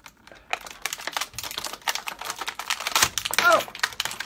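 Plastic ties and cardboard packaging being cut and crinkled to free a Playmates Rise of the Teenage Mutant Ninja Turtles action figure, with scattered snips, clicks and crinkles at close range, interleaved with a person talking.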